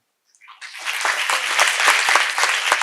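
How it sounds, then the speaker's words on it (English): Students at a college program in Anand, Gujarat clap for a guest, the applause rising quickly from silence into a full, sustained crowd clapping with sharp individual claps poking through. "We should clap for him."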